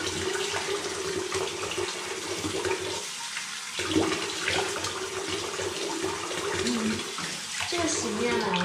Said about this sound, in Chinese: 用温水把它冲洗掉